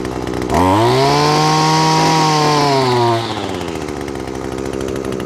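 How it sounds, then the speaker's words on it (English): Echo SRM-225 string trimmer engine revving loud and close at wide open throttle for about three seconds with a steady high whine, then dropping back to a rougher idle. "This Echo SRM225, as you saw, starts okay without choke, and once I give it wide open throttle,"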